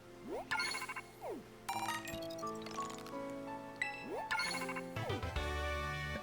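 A bright electronic notification jingle sounds in Pokemon Violet as League Points are sent to the player's phone, a string of chiming tones and rising sweeps layered over soft game music.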